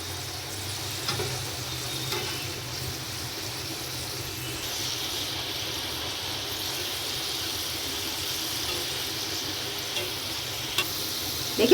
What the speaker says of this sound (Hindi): देखिए, 5 मिनट हो गए फ्राई होते हुए।